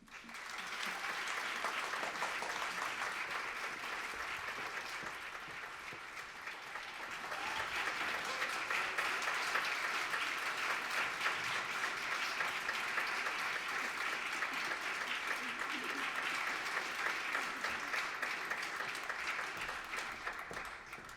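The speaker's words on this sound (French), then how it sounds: "adresser nos plus vifs remerciements et applaudir chaleureusement nos pianistes Manon Parmentier et Stella Soupaya" Sustained applause from an audience for pianists at the Strasbourg Opera, a dense even patter of many hands clapping that swells slightly midway and continues throughout.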